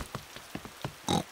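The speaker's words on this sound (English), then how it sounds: "The rain's too heavy to play in now." Cartoon downpour in an animated children's show: short rain spatters and patters in a few scattered bursts, ending in a louder hiss of falling water, fairly quiet overall.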